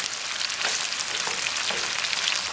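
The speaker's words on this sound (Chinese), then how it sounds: "咱们把肉丝给它简单煸炒一下" Shredded pork sizzles in hot oil in a wok with scallion and garlic, a dense, steady frying hiss with faint stirring scrapes and no voices.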